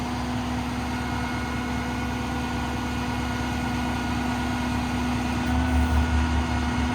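The PX9 Paccar engine of a 2017 Peterbilt 337 truck with a Palfinger crane runs at full speed with the idle raised. It gives a steady, loud, continuous drone with a constant low hum that swells slightly near the end.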